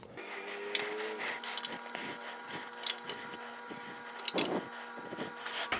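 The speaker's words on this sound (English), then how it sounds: "Now I'm gonna tighten these 4 screws up and all done." Four handlebar screws are tightened on an Inmotion RS electric scooter, giving short, intermittent scraping and clicking strokes over a steady low electrical hum, close and fairly quiet, with no talking.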